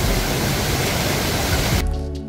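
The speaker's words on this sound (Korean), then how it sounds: "심은사 쪽에서 내려오는 계곡의 물입니다. 엄청나게 크게 내려옵니다." Rushing water fills the air in a mountain valley stream below Simwonsa temple on Dojangsan, running high and loud as a steady, dense roar that cuts off abruptly near the end, leaving low hum.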